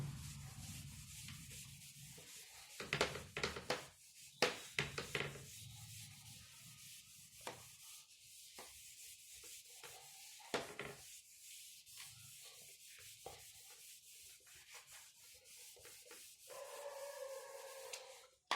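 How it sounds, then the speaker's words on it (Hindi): Writing is rubbed off a board with soft, quiet scrubbing strokes that come in uneven bursts, with brief pauses and a faint squeak near the end. "इसको मैं रब कर देता हूं अभी"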